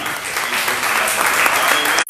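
Congregation applause after a sermon in a church service fills a brief, dense burst of clapping that continues steadily for about two seconds and then cuts off abruptly.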